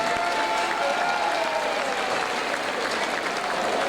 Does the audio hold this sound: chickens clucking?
no